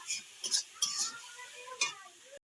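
A spice paste fries in oil in a pan while a spoon stirs it, giving a few scraping clinks and soft sizzling bursts close by over about two seconds before stopping abruptly.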